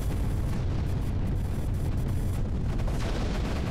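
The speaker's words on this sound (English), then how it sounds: "Mortar." Mortar fire in Creeper World, a dense, continuous rumble of booming blasts and explosions that stays loud and steady.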